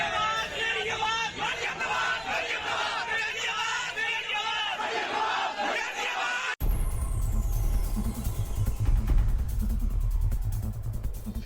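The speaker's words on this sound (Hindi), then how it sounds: "मरियम की रैलियों में भीड़ उमड़ रही" A large crowd at a political rally for Maryam in Pakistan roars and chants in a dense, continuous hubbub, followed by a rumbling, wind-buffeted stretch of open-air noise.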